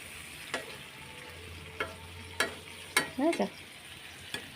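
Fish turned on both sides fries in a pan with a low, steady sizzle, broken by several sharp clinks of a utensil against the pan and a brief spoken question from a nearby voice.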